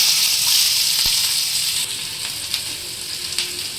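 Finely chopped small onion hits hot oil in a pan with a steady, bright sizzle that runs throughout, softening slightly partway, with a couple of light clicks of utensil against the pan and no talking.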